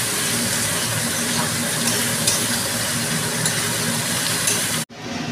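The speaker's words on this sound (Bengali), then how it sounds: "পেঁয়াজটাকে ভালোভাবে লাল করে ভাজতে হবে" Chopped onions frying for biryani in a pan where sugar has been browned first, giving a loud, steady sizzle with faint stirring scrapes throughout, then cutting off abruptly near the end before a brief quieter return.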